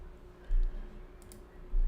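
Computer keyboard keys clicking close by in two short bursts of rapid taps, separated by a quieter pause, with no talking.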